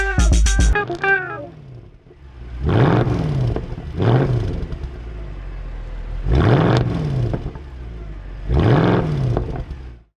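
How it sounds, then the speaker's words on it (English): A 2019 Mazda MX-5 Miata RF GT with a manual gearbox, in gunmetal grey, gets its exhaust revved: a brief start, then four loud, close blips that rise and fall with a steady idle between them. "So we'll take it out for a drive and give it some exhaust revs."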